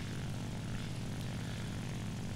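A Ki-84 fighter plane's piston engine in War Thunder drones steadily and loudly, a constant propeller roar with no breaks or voices.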